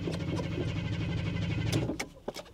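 A 2.8-litre Ford Granada Mk2 Ghia, long abandoned and without working brakes, runs with a steady low engine rumble as the car lurches forward, then the note drops away into a few sharp knocks and clunks.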